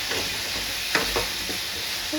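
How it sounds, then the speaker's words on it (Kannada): Egg frying in a little oil in a pan, a steady soft sizzle throughout with a couple of brief stirring or scraping clicks near the middle, close and moderately quiet, no talking. "ಇವಾಗ ಎಗ್ಗು ಕೂಡ ಅದೇ ರೀತಿ ಫ್ರೈ ಮಾಡ್ಕೊಳ್ಬೇಕು ಸ್ವಲ್ಪ ಎಣ್ಣೆಯಲ್ಲಿ"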